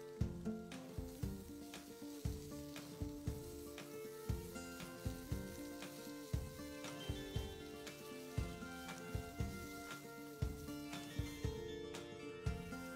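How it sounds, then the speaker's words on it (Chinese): Ingredients for mackerel fried bee hoon, including shiitake mushroom, squid, black fungus and chopped red chilli, sizzle steadily in a pan while being stir-fried, with regular scraping stirs in a repeating rhythm and no talking. "将所有食材炒香炒熟。"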